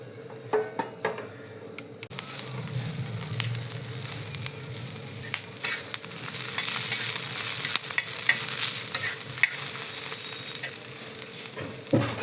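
Vegetables are stirred and roasted in a pan while cooking a pigeon pea pod curry, with steady sizzling and the intermittent scrape and clink of a spoon against the pan, close and continuous.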